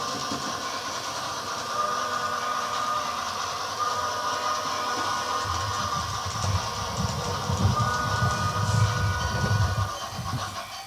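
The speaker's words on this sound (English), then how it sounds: "You can see the train departing in the rear track, and then the passenger train is departing in the front." Model railroad trains depart on the rear and front tracks of a layout, giving a steady mechanical hum and whir with a low rumble that swells in the second half as a passenger train gets moving.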